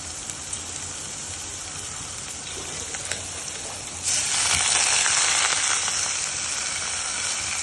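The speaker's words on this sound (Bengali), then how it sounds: "সামান্য পানি দিয়ে আমরা মশলাগুলো কষিয়ে নেব" Spices with ground garlic paste and garam masala fry with a little water in a pan for an egg curry, a steady sizzle that suddenly swells louder and brighter midway, then hisses on evenly.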